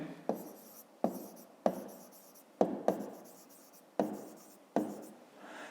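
Pen or pencil strokes on paper while writing out a digit in a grade 5 maths exercise, seven short scratchy bursts each starting sharply and fading, close and alone with no talk.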